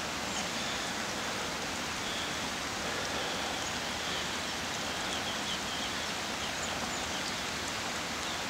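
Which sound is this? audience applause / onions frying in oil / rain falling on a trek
rain falling on a trek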